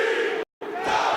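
An arena crowd at a wrestling match roars loudly for Tommy Dreamer, a dense, sustained wall of cheering that cuts out abruptly for a moment before surging back just as strong.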